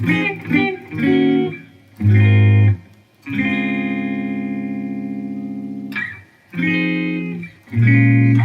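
Electric guitar chords ring out in short strummed bursts, then a minor 7 passing chord sustains for several seconds before a few more quick strums, played alone with effects.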